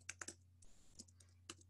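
Keys on a computer keyboard clatter in a few quick bursts of typing, close and fairly quiet, with a steady electrical hum beneath and a short pause partway through.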